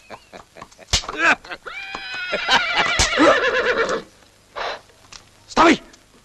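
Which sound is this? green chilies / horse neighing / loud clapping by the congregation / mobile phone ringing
horse neighing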